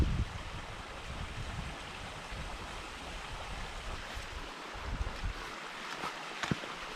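Spring water pouring out of a pipe on a hillside along the Denali Highway in Alaska, a steady close rushing and splashing flow with no talk.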